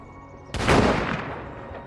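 A single loud gunshot blast from a weapon in the zombie survival game State of Decay 2, striking sharply and trailing off in a long, fading echo.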